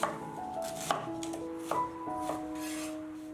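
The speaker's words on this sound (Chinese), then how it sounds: "梨一个去皮，切成小块" A knife cutting a peeled pear into small pieces on a board, with a few distinct chopping taps at uneven intervals, close and clear and without any voices.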